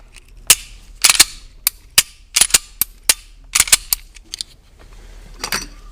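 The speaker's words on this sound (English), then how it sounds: "Go ahead and check the trigger pull here." Springfield XDS pistol being handled after a trigger spring kit install, with about a dozen sharp, loud mechanical snaps from slide and trigger pulls, spaced irregularly and close up.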